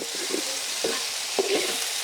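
Ginger garlic paste sizzles with softened onions in an outdoor cooking pot for chicken gravy, stirred with a few distinct scraping strokes over a steady frying hiss, close and with no talk.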